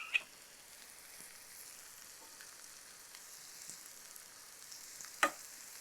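Broad beans with curry leaves, tomato and turmeric frying in a pan, a faint soft sizzle with two brief clacks as the pan is tossed.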